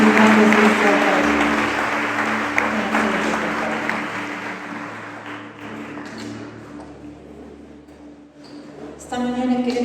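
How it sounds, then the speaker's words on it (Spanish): A church congregation applauds in a loud, sustained wash of clapping that slowly thins out, with a voice speaking over it near the end. "Vamos a darles un aplauso"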